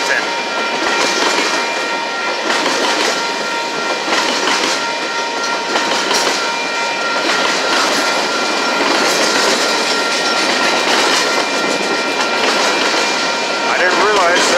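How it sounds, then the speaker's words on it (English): A BNSF freight train rumbles past close by in Sacramento, California, with rhythmic clickety-clack of wheels and a sustained horn-like tone, loud throughout. "I didn't realize there was a train coming"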